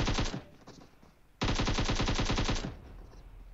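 Bursts of rapid automatic AKM fire in a battle royale video game, close and loud: a short volley, a brief pause, then a longer sustained string of evenly spaced shots.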